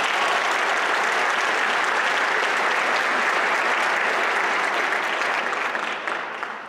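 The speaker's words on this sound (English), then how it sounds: "Let's give him another round of applause." An audience at a Martin Luther King Jr. birthday celebration in Milwaukee claps steadily, a dense, loud, sustained wash of applause that holds for several seconds and then begins to taper off at the end.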